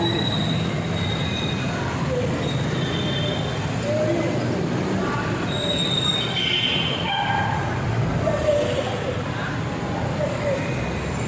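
An LRT train rolls along the elevated track above a busy street near Divisoria, giving high metallic wheel squeals over a constant roar of traffic, with people talking nearby.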